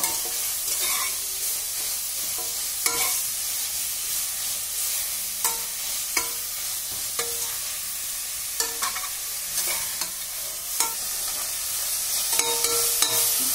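Onions sauté in a pan for mutton biryani with a loud, continuous sizzle close by. Sharp clacks from a stirring spoon punctuate it every second or two, and no speech is heard.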